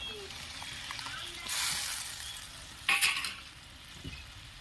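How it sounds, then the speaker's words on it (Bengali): A sour curry of small fish boils in a pot, giving a low, bubbling simmer with a brief louder burst of spluttering and stirring midway. "দেখো এটা ফুটছে।"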